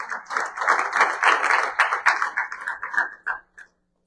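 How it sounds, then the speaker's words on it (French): Church congregation at a Sunday service clapping to acclaim the Lord: loud, rapid, sustained applause from many hands that thins out and stops near the end. "Acclamons très fort le Seigneur."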